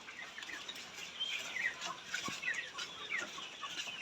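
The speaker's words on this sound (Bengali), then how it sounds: "আমাদের এই বেশি দুই থেকে আড়াই হাজার মুরগি আছে" Two to two and a half thousand chickens on a poultry farm cluck and squawk together in a soft, busy chorus at a moderate distance, with no talking.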